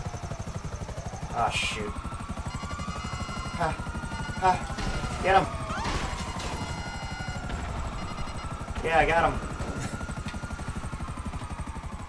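A stealth helicopter in the video game GTA Online keeps up a steady rotor thrum throughout, heard under excited shouting and brief bursts of in-game action.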